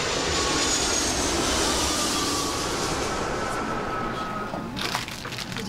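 Aircraft engines at Frankfurt airport roar loud and steady as a broad continuous rush, easing slightly toward the end while planes queue for takeoff clearance.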